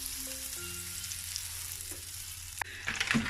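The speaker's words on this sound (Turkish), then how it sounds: "Yaklaşık e, bir buçuk çay kaşığı kadar yağ koyup eritmekle başlıyoruz." About one and a half teaspoons of oil melts and sizzles in a pan before making spoon-dropped breakfast fritters, a soft, even frying hiss with a metallic clatter near the end.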